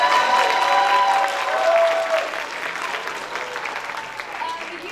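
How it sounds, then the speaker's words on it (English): A school concert audience applauds the middle school band groups at a Christmas concert: dense clapping with some cheering, loud at first and then tapering off, while a voice talks over it. "can we get one more round of applause for the middle school groups that performed?"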